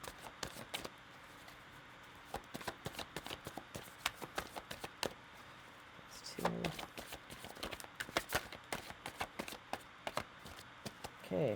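Tarot cards shuffled by hand during a reading, a long run of crisp rapid riffles and taps in uneven bursts, close and fairly quiet, with a brief louder shuffle midway and a short voice near the end.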